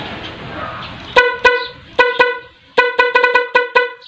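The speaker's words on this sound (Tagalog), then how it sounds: "tumunog na yung stock horn" A stock car horn beeps repeatedly in short, sharp honks, some single and some in quick clusters, loud and close after a stretch of quiet background noise.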